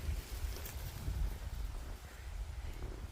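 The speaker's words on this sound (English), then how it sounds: "It's really windy today." Outdoor wind gusts buffet the microphone in a constant low rumble with rustling, loud and unbroken throughout, near a chickpea field.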